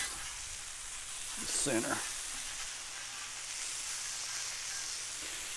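Burger patties of 5 to 6 ounces, 80-20 beef, sizzle on a Blackstone griddle as a steady frying hiss, with a brief louder burst of sizzle and scraping near the middle and someone talking over it.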